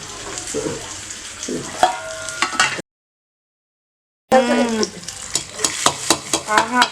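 Green chillies sizzling in ghee in a pan for lemon rasam, with a steady crackling fry and occasional stirring clinks, cut by a short silent gap before the sizzle resumes.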